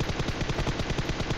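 Rapid automatic gunfire from the battle royale game PUBG rattles in a steady, loud burst of evenly spaced shots, close and continuous, with no talking.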